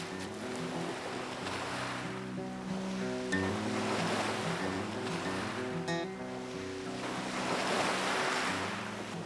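Sea waves wash steadily onto an Alaskan shore, a loud continuous surf roar with surges swelling and easing, alone without talk.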